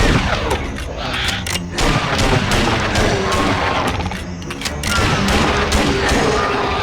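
Rapid, loud gunfire in the video game Dino Strike: a dense, sustained barrage of booming shots with brief gaps, close and forceful, with occasional faint voice beneath.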